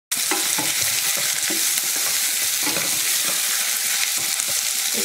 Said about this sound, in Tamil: இப்போ உருளைக்கிழங்கு நல்லா வதங்கிடுச்சு